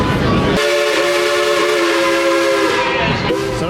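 The Dollywood theme park steam train sounds its whistle in a loud, sustained blast over the rumble of the running train, with some clatter from the cars beneath it.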